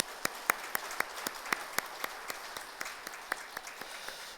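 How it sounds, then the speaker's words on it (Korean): A congregation at a Thanksgiving Sunday church service applauds in a steady, rhythmic clap, the individual claps crisp and evenly spaced, moderately quiet in a reverberant hall. "우리 박수 한번 하십시다."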